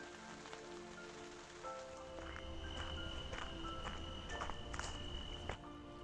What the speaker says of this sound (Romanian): Plouă mult în Croația.